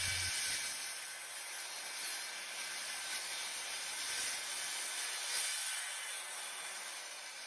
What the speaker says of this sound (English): The blade I have in the saw is designed for non-ferrous metal.